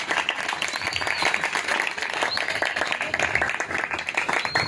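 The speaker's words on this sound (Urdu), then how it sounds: "میں چاہوں گا خدا کے کلام کے لیے زوردار تالیاں بجا کر خدا کے کلام کی بات کریں." A church congregation bursts into loud, sustained applause, dense clapping that fills the whole stretch without a break.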